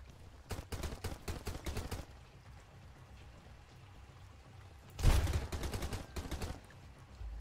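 A heavy gun fires in Sunkenland, two loud bursts of rapid shots, the first run for about a second and a half, then after a quiet pause a second, longer volley that starts with a big blast and fades into scattered shots.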